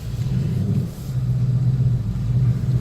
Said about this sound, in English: it makes the kind of sound that I always wanted, which is your foot and the engine noise, the revs, really match up